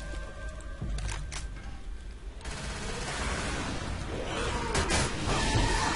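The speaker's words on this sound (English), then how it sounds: "Stop shooting me, please." Gunfire in a Left 4 Dead 2 versus match, dense overlapping shots and bursts running continuously and growing louder toward the end, mixed with game noise and no clear talk.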